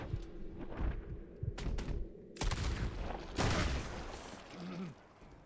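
Gunshots from Red Dead Redemption 2 as Micah is shot: a rolling volley of cracks and booms with a few sharp standalone bangs, steady and fairly loud, with no talking over it.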